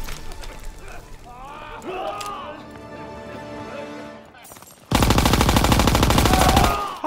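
Sustained automatic gunfire from a World War II shooter game, Call of Duty WWII, bursting loud and dense in the second half after a stretch of game music and effects, with a voice talking over the gameplay.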